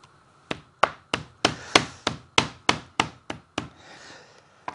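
A meat hammer pounds steak in a kitchen, about eleven sharp, heavy thuds in a steady rhythm, loud and close, then stopping into quiet rustling.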